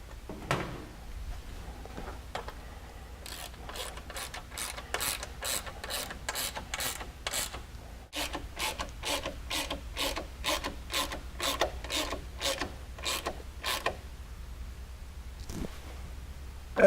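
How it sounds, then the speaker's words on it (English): Bolts on a Honda Talon's belly skid plate being tightened down with a ratchet, giving long runs of quick, even clicks in bursts with short pauses, close and alone without any talk. "And then you can just tighten down those 4 bolts."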